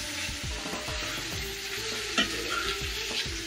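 Washed mushrooms being stirred into frying ginger paste, a soft, fairly quiet sizzle under repeated low scraping strokes of a spoon in the pan, with no voices.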